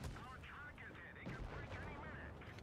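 A single cannon shot from an M-VI-Yoh tank in a video game, a short, muffled boom heard faintly beneath ongoing talk.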